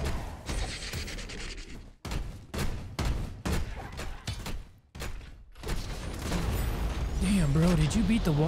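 Volleys from a wall cannon boss in Torchlight: Infinite, repeated heavy booms in uneven clusters with short gaps, followed by sustained rumbling, with a voice talking over some of it.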